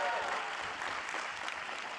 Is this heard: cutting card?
no